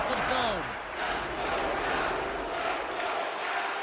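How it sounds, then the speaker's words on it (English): Home crowd in an ice hockey video game roars in a dense, sustained wash of cheering and shouting, loud and continuous, with a brief whistle-like call near the start. "Myers is going to need some earmuffs to block out the noise, James."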